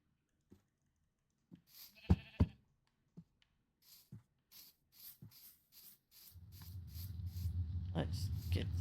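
Sheep in Minecraft bleating in short, separate game calls, spaced across the clip with a few sharper clicks among them, then a low rumbling background that builds toward the end.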